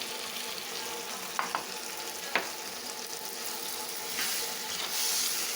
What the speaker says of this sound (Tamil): பச்சை வாசனை போகிற வரைக்கும் கொஞ்சம் எண்ணெயில் வேக விட்டுட்டு